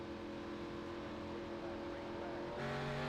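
Race cars at Talladega Superspeedway in a racing video game accelerate as one, with a steady droning engine hum that rises in pitch and swells louder toward the end.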